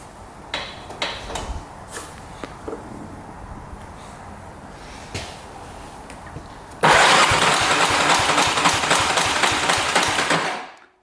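A quad ATV engine cranks during a compression test with the throttle cable faulty, a few faint clicks first, then a loud, steady rhythmic starter churn for several seconds before cutting off.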